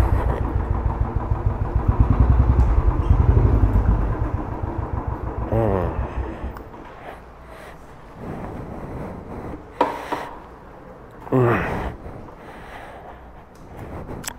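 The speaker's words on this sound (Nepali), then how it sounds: "हाम्रो बाइक राखौँ," A motorcycle engine idles loudly and close while the bike is being parked in a private parking area, then cuts off and gives way to quieter handling knocks, with someone talking over it.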